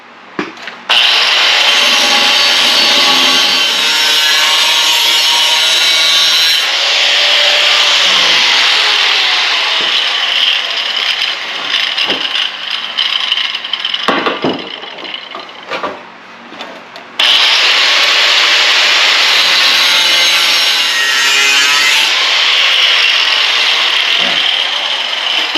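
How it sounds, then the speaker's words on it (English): Handheld grinder cutting a slot in metal for a homemade tractor snow blade attachment: a loud, harsh, continuous whine that drops out briefly mid-clip with scraping and clanks, then resumes. "Now what we'll do is we'll take our grinder and just cut that slot out"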